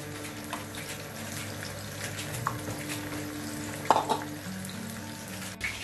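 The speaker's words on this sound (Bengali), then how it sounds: "এটা ভাজা হোক" Ingredients for shahi chicken pulao fry lightly in a pan, giving a steady close sizzle with occasional stirring clinks and a few brief louder knocks, and no voices.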